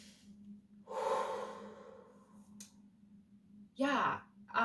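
Slow, deep breaths drawn in and let out during a calm centering exercise, fairly close with a long exhale early and a sharper breath near the end, heard alone without talk.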